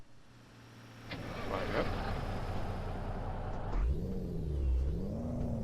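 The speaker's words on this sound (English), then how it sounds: "this one, it's basically trying to replicate a Cummins engine noise for this truck" Peterbilt 389 truck in Euro Truck Simulator 2 with a Cummins engine sound mod starting up: a low rumbling idle, then a deep crank and revving swells near the end, with a voice speaking briefly.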